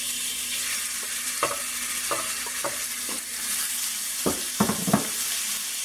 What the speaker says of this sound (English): we're going to go ahead and brown the meat before we throw it in the crock pot